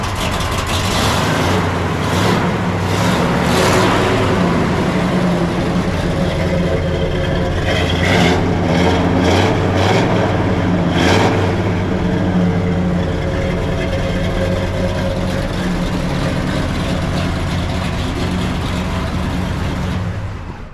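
A 1967 Chevelle with a 396 V8, 4-speed and restored exhaust fires up and settles into a loud, deep, steady idle with occasional rev blips, running close and alone for about twenty seconds.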